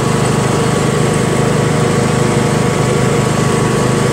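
A Yard Machines MTD riding mower with a 20 HP Briggs & Stratton engine and CVT transmission runs steadily, its loud, even engine drone and rapid firing pulses continuing without a break and without talk.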